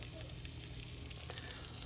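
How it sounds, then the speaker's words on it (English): Kielbasa sizzles steadily in a hot frying pan, a soft continuous crackling hiss with no pauses. "Frying up some kielbasa."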